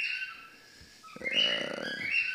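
A synthesizer patch imitating a cockatiel's call: bright, whistly chirping tones, sparse at first, then a louder, busier run of warbling bird-like notes in the second half.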